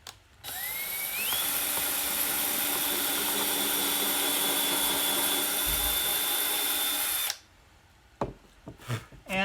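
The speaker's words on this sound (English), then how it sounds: "I want to pre-drill this first." A power drill pre-drills a hole in wood for a cabinet, whining up to speed and running in one sustained, close burst of several seconds before stopping, followed by light handling clatter.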